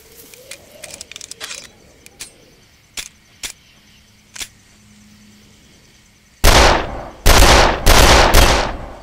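Rifle gunshots in the video game Darkest of Days: a scatter of light, sharp shots early on, then four loud, close rifle blasts spaced about a second apart, each with a ringing decay.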